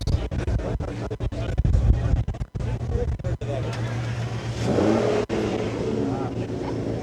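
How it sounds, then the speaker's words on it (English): A powerful V12 Aston Martin engine revs and roars nearby, rising and falling, with people talking over it. "Sound of a V12 Aston Martin."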